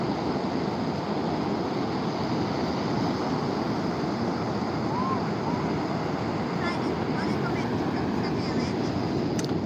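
Ocean waves break on a beach at sunset, producing a steady, loud, unbroken wash of surf that fills the whole stretch alongside wind buffeting the microphone.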